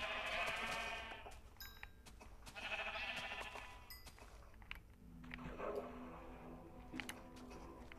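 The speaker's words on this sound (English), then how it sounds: "There's tons of sheep over here." Sheep bleating in the video game Minecraft, several separate bleats a second or so apart, faint and alone over quiet background.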